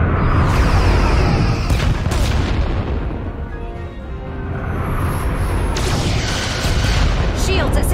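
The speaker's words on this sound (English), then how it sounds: "Fire phasers! Firing." Phaser fire in the Star Trek Resurgence video game during a starship battle, with heavy, continuous booming blasts that swell, dip briefly midway, then build again over a dense rumbling backdrop.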